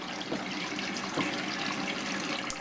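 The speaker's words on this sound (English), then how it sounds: "Add a little water" Water is poured into a roasting pan for a roast turkey, a brief steady splashing trickle heard up close.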